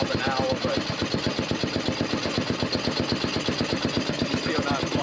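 A small outboard motor idles on a wooden pirogue with an even, rapid putter, steady and close, running on without change for the whole stretch.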